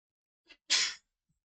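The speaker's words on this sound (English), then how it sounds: "I have to sneeze." A single sharp sneeze bursts out close to the microphone, preceded by a short intake of breath, then silence.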